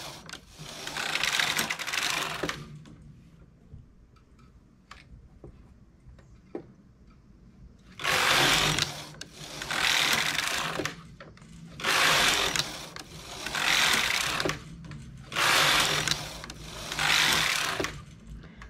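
A domestic knitting machine works an English rib stitch on a vest, its carriage swept back and forth in five loud, regular passes with clattering mechanical texture, after a quieter stretch of faint ticks and handling.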